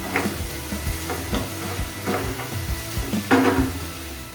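Chicken frying in a pan on a medium flame makes a moderate sizzle, broken by periodic soft stirring scrapes and a light clatter of the pan, heard close with no voices.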